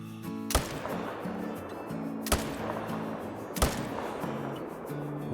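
Three sharp, loud rifle shots fired at bulls in theHunter: Call of the Wild, spaced over a few seconds, each with a short echoing tail over quiet ambience and a soft tonal hum.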